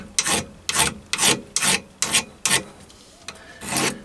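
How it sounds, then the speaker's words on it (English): A file rasps along the edge of a metal collet chuck hexagon block to deburr it, giving six or seven distinct back-and-forth strokes at a steady rhythm, close and fairly loud with no talking. "And then I can deburr the edge"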